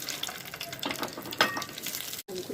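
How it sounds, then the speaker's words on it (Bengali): Rohu fish kebabs dropped into hot oil, a bright crackling sizzle with bubbling and a few spattering pops, close, briefly cut off near the end before resuming. "আমি ভেজে নেব গরম তেলে।"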